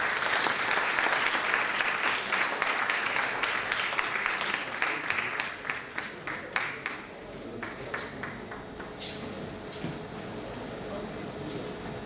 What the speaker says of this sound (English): I think we need to put another round of applause today for Dr. Joe Arrow.